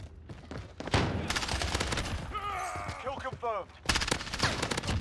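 Rapid bursts of shotgun fire in a Call of Duty Modern Warfare match, sharp cracks in quick succession with a steadier volley between them, while a player talks over the action.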